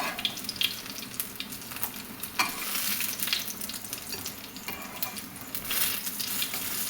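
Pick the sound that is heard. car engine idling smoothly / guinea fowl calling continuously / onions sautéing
onions sautéing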